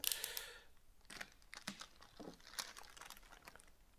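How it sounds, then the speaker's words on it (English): Plastic packaging on a boxed Hot Toys Back to the Future Part II DeLorean time machine is cut open, giving quiet, close crinkles, snips and tearing scratches in short irregular bursts. "Let's cut these open."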